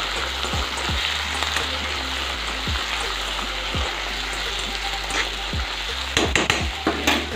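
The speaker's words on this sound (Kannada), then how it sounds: "ಇವಾಗ ಇದಕ್ಕೇನೆ ಟೊಮೆಟೊ ಹಾಕ್ತೀನಿ ನೋಡಿ ಇದು ಸ್ಮೂತ್ ಆಗೋವರೆಗೆ ಫ್ರೈ ಮಾಡ್ಕೋಬೇಕು" Tomatoes fry in a pan for bhaji with a steady, close sizzle, and a utensil scrapes and knocks against the pan now and then. A cluster of sharper clatters comes near the end.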